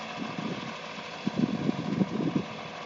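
A farm tractor engine runs steadily while planting a field, giving a low, continuous mid-level rumble with a few louder uneven pulses and no voices.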